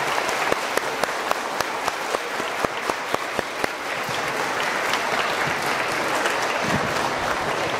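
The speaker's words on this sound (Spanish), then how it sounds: "Démosle un fuerte aplauso como signo de alegría" A church congregation applauds newlyweds at a double wedding Mass, loud sustained clapping with distinct individual claps at first, settling into a dense, even roar.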